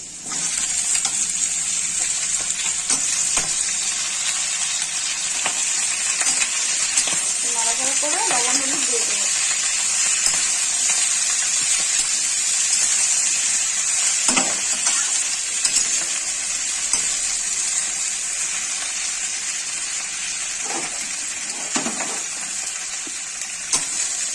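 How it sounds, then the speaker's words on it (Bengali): Malabar spinach leaves hit a hot pan of pumpkin curry and set off a loud, steady hiss of frying that runs unbroken throughout, with occasional utensil scrapes and clinks over the sizzle. "এখন দিয়ে দিচ্ছি পুঁই শাকগুলো"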